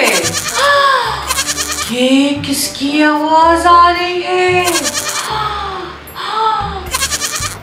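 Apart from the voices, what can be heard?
goat bleating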